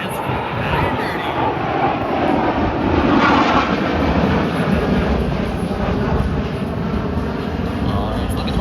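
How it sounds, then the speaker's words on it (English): Blue Angels F/A-18 Hornet jets roaring overhead at an air show practice in Pensacola, Florida, a loud sustained broadband rumble swelling toward the middle and holding steady, with people talking faintly beneath it. "the Blue Angels Hornets"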